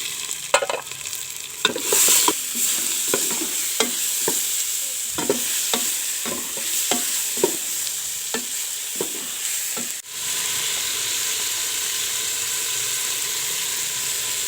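Steady sizzling of tomatoes frying in a hot pan with repeated scraping clicks of a spoon stirring, close and continuous, with no voices.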